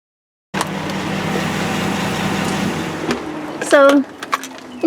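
Engine running in a truck fitted with hand controls. An automatic door then starts to open, with a mechanical shift followed by a rising, whining motor sweep. The sound is close and fairly loud, with the engine rumbling underneath.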